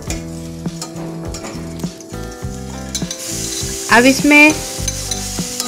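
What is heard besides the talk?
chopped onion sautéing in ghee or butter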